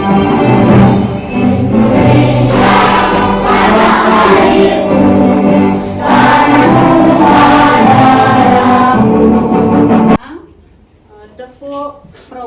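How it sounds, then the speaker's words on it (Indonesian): A class of children sings the Indonesian national anthem Indonesia Raya together, a loud, sustained choral sound that stops abruptly near the end, leaving a few faint voices. "untuk selanjutnya kita menyanyikan lagu Indonesia Raya"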